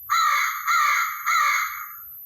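Three harsh crow caws from a Halloween noise maker in quick succession, loud and tinny with a synthetic, toy-like quality, followed by silence.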